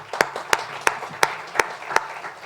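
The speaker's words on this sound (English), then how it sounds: "I think a big applause to both of you." A single person claps slowly and evenly, six distinct claps roughly a third of a second apart, close and fairly quiet, after an online session on carbon accounting tools.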